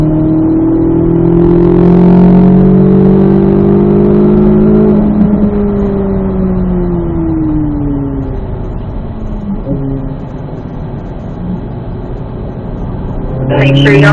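A Corvette Z06 accelerates out of a corner on a race track, its engine note climbing in loud, sustained harmonic sweeps that shift and fade as it pulls away, with a voice talking over it.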